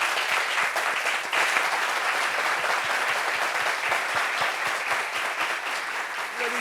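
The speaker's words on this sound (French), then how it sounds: "Applaudissements." Sustained applause from a large television studio audience, dense and steady throughout, with scattered louder claps and no pause.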